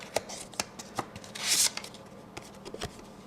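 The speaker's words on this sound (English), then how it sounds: "And then we open up the wedding day envelope." Paper rustling and crisp handling of a handmade paper wedding invitation envelope being opened, with short close rustles and one louder tearing swipe partway through, no talking.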